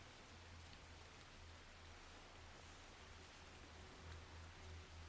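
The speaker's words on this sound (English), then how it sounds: "Great, it's nighttime and it's raining." Steady rain falls at night in the Assassin's Creed Shadows video game, a constant soft wash of hiss with no distinct drops, faint and unbroken over a low rumble.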